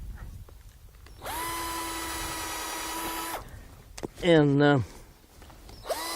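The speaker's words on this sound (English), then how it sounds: "we're going to also drill a hole in it here" A power drill bores a hole in a piece of walnut grafting wood, a steady whine of about two seconds, then a short rising whir, with brief speech nearby.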